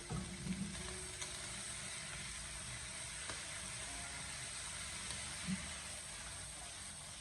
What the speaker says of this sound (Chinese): 我们将它大火翻炒个大概1分钟左右